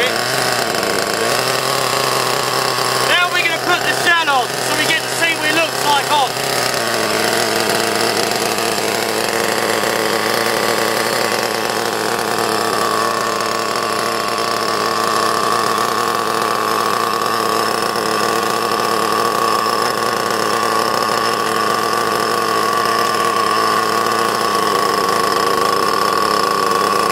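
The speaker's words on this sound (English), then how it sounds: "Keep the throttle up a bit." An Ansmann Virus 2.0 BigBlock RC car engine runs with the throttle held up. It gives a loud, steady, high buzzing drone that continues throughout, with a brief rattling stutter early on.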